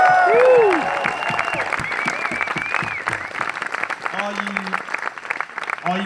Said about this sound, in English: Let's have one more round of applause for Bayley and Finnbalor.